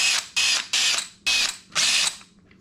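Five short bursts of a power drill whirring, each about a third of a second, separated by brief pauses, removing water pump cover bolts on a Honda CRF150R, close by with no talking.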